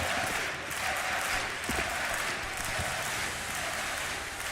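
A large arena crowd at a Counter-Strike esports quarter-final applauds and cheers, a dense continuous roar of clapping and voices with no break.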